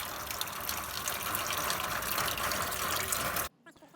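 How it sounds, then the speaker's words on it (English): Water gushes steadily into and through the opened cap of a Jeep XJ radiator during a rinse, a continuous splashing flow that cuts off abruptly near the end, leaving a few faint drips. "Then I got the other side of the radiator via the opened cap. Rinse it all out."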